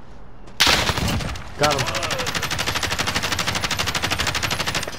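Rapid automatic gunfire rattles steadily in a first-person shooter video game, with a couple of loud opening bursts followed by a long, even stream of shots, while a voice speaks briefly over it.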